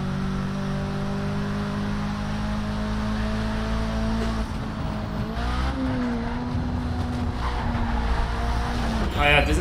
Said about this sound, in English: You get an invalid lap time and the car starts sliding if you hit something